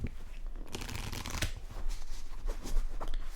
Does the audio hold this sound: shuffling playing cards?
yes